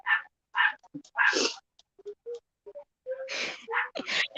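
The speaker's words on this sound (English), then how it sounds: "Y'all can tell my dogs are barking." Several dogs bark in short, sharp bursts, a few yips and whimpers sitting between them, loud and close in a quiet room.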